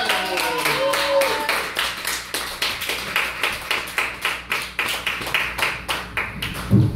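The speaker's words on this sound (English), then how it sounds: "So please clap for Kyle Adams, everybody!" At a comedy show at Starday Tavern, a few people clap for comedian Kyle Adams in a steady, rhythmic beat under talking and crowd murmur.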